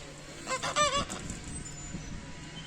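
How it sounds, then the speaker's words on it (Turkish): Several geese at a zoo in Štip honk in a quick cluster of nasal calls, fairly faint and a little distant, then fade into quiet outdoor background. "Son olarak bu kazları da görelim."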